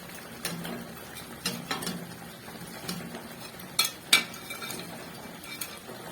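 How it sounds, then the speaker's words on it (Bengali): Chicken pieces for chilli chicken are dropped into a pan of simmering sauce, giving a series of soft, close clinks and knocks of metal utensils against the pan, irregular and fairly quiet, with a few sharper clatters. "আর এখন দিয়ে দেবো চিকেনের পিসগুলো"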